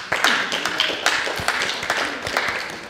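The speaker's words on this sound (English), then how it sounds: "and we give you a little round of applause." A small church congregation gives a brief round of applause for a retiring member, a loose patter of scattered hand claps with a voice faintly present underneath.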